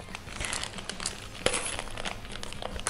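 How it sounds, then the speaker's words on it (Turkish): Paper wrapping being torn and pulled off a Monopoly board game box, a continuous close crinkling and crackling with sharp rips, one louder snap midway, and no talking. "Abi bu nasıl bir kağıtmış, açılmıyor."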